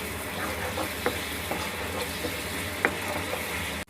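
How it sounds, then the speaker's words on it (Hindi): Whisked yogurt fries with spices in a pan under soft, steady sizzling, while a spoon scrapes and taps the pan a few times in a loose rhythm. "अब इसे अच्छे से भूनेंगे हम।"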